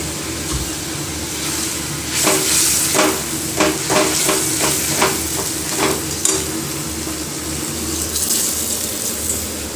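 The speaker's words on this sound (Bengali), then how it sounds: "পেঁয়াজটা ভাজা হয়ে গেছে মশলাটা দিয়ে দেবো" Onions sizzle steadily in a hot pan as spice paste is added, while a utensil stirs and scrapes in a quick run of strokes.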